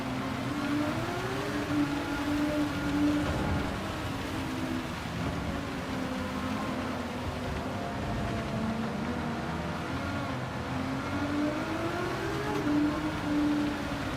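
A race car engine in the Gran Turismo 7 video game, a steady droning whir that rises and falls in pitch in repeated cycles as the car laps, continuous and without talk.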